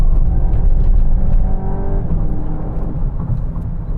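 A Volkswagen Golf performance car with a manual gearbox accelerates hard, its engine droning loud and close from inside the cabin; the pitch climbs, then eases off near the middle as if at a gear change, and the drone carries on.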